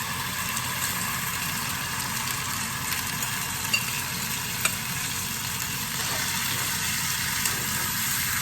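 Garlic and rinsed basmati brown rice frying in coconut oil, a continuous even sizzle with a few small clicks and taps of stirring, close and alone without talk.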